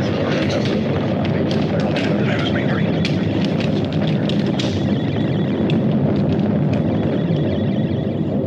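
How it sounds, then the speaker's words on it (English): A stellar explosion effect in a sci-fi space film rumbles as a dense, roaring, continuous blast with crackling bursts on top, loud and sustained for several seconds. "Mila, check the distance of the stellar explosion."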